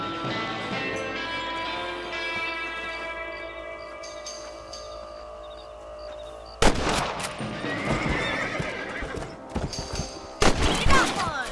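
Rifle shots at rabbits in the Red Dead Redemption video game ring out as sharp, loud cracks late in the scene, following a calm stretch filled with horse whinnies, hoofbeats and ambient tones.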